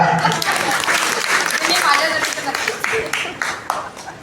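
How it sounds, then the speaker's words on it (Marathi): Applause fills a retirement felicitation ceremony for a senior X-ray technician at Mumbai port, a dense, steady crowd clapping that holds for several seconds with voices mixed underneath. "टाळ्या टाळ्या।"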